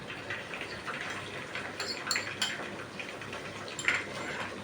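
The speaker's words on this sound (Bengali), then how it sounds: "দিয়ে আমি একটু মশলাটা কষিয়ে নিব" A spoon stirs ground and powdered spices with two dried chillies frying in oil, with soft clinks and scrapes against the pan over a low, steady hiss, fairly quiet and close.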